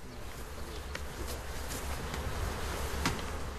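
Honey bees hum and drone around a hive in a German garden, a continuous close buzz with individual insects passing louder past the microphone.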